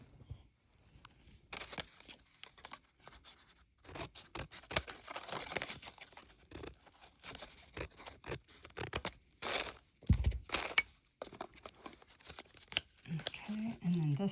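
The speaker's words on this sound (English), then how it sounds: "I'm going to trim this with my scissors." Scissors trim packaging material for shipping knives, with repeated crisp snips and crinkling plastic or paper handling, close and intermittent, in bursts between quieter pauses.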